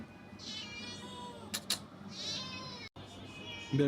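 A black tuxedo cat meows a few times in short, drawn-out calls, fairly close, with soft background voices and room noise between the cries.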